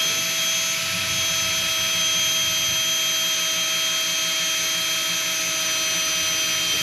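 A power drill bores through the sheet metal of an RV wall, giving a loud, steady, high-pitched whine with a constant hiss that runs without a break for several seconds, with no talking.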